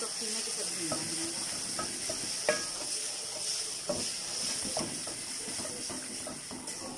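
Minced meat (keema) frying with bitter gourd in a pan, a steady high hiss with scattered soft spatula clicks and scrapes throughout, moderately near.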